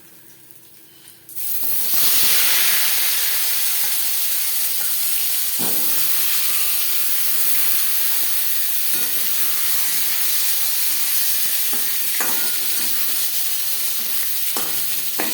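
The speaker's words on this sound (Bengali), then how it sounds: "পরের মাছ একইভাবে ভেজে নেব" Marinated bhola fish frying in a pan: a loud, steady hiss of hot oil starts abruptly and holds, with a few faint scrapes and clicks of a spatula beneath it.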